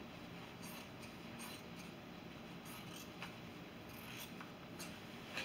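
Steady snipping of scissors through heavy denim from old jeans, repeated crisp cuts at an uneven pace over a constant low background hiss.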